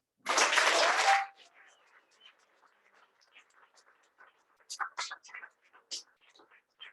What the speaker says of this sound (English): give Sharon a round of applause